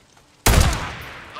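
Gunfire strikes the player in the video game Days Gone, a sudden loud close burst of shots that decays into a rumbling tail.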